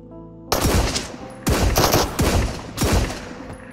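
Bursts of SVT rifle fire in the video game Marauders, four close, loud volleys of rapid shots separated by short pauses, each burst ringing out briefly.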